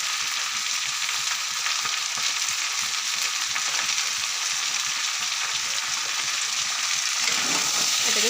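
Turmeric, salt and spices fry in hot oil in a pan while being stirred, giving a loud, continuous, close-up sizzle that stays even throughout with no voices.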